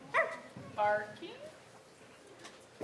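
An actor in a stage play of Pinocchio imitates a dog with two short voiced barks, close and fairly loud, followed by quieter murmuring in a small indoor space.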